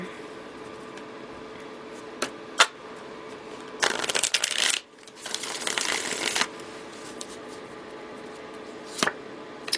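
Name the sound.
tarot cards being shuffled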